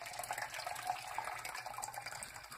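Canned chicken broth pours into a pot of warm water in a home kitchen, giving a steady, soft liquid rush and trickle that runs the whole time, faint and close, with no talk.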